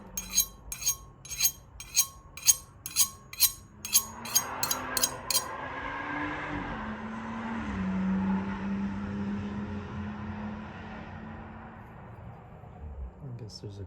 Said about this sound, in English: I guess there's a car that was driving fast.